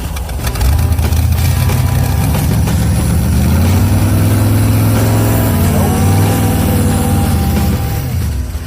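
A Corvette-engined go-kart idles high at about 2,000 RPM, a loud, steady low engine drone with a slight shift in pitch partway through and no speech.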